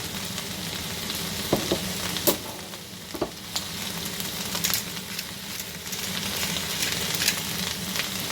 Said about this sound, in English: Now we're just going to keep carefully stirring it until it starts to cook down a little bit.